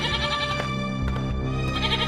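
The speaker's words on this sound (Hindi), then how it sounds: "उसकी बकरी उसकी झोपड़ी में ही बंधी होती है और काफी चिल्ला रही होती है" A tethered goat bleats loudly and repeatedly inside a hut, its strained cries running almost continuously at close range with no talk.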